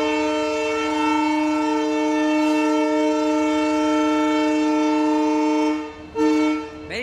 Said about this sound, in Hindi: मेरी ट्रेन ने हॉर्न दे दिया